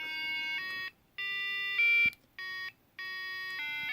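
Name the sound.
embedded system alarm clock playing its alarm song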